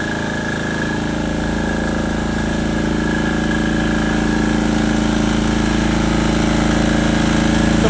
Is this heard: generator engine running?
yes